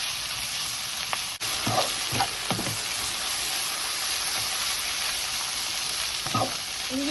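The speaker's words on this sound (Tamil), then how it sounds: "சேர்த்து வதங்க விடுவாங்க ஒரு ஒரு நிமிஷம் வதங்க விடுவாங்க" Green chillies sautéing in a pan for dried anchovy fry, a steady close sizzle with occasional clinks and scrapes of a utensil stirring, no talking.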